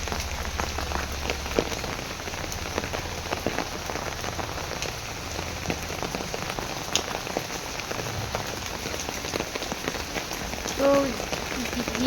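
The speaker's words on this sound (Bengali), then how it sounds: "এখনই কিন্তু অনেক বৃষ্টি নামলো" Heavy afternoon rain pours down steadily, a dense close patter of drops on surfaces that continues without a break, with a faint voice briefly audible in the background.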